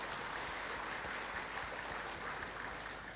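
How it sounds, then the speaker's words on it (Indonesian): A graduation ceremony audience for a social humanities faculty breaks into soft, distant applause, an even wash of clapping that carries on without a break. "Tepuk tangan, yang apa tepuk tangan?"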